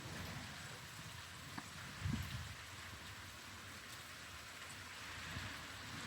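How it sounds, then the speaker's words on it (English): Steady rainwater trickling down a rain chain from a house gutter after a storm, a soft continuous patter and tinkle with a brief louder splash partway through, no voices. "Kind of a nice little tinkle, tinkle"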